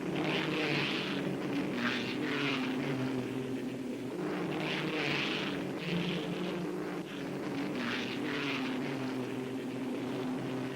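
1958 Formula 1 racing cars roar through the high-speed bends of Spa-Francorchamps on the opening lap of the Belgian Grand Prix, a continuous engine drone that swells and fades as cars pass at a moderate distance.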